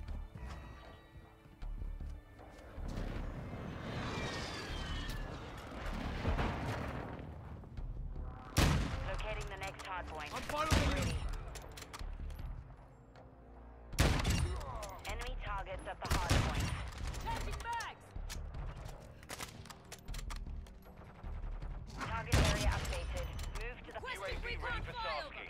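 Gunfire from a sniper rifle in the Modern Warfare 2 video game: several sharp, loud shots spaced a few seconds apart over continuous game noise and busy background sound.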